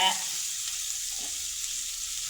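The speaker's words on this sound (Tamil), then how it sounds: "இதை எல்லாத்தையும் பொன்னேரமாக வறுக்கலாம்" Dried chillies and onions fry in a pan with a steady, moderate sizzle, close by, over a brief stretch with no talking.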